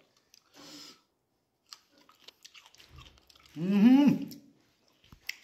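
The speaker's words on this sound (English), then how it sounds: "Let me just taste this core also." Close crunchy chewing on the core of a Kachai lemon, a few bites and a louder wet crunching burst, with a brief murmur of appreciation.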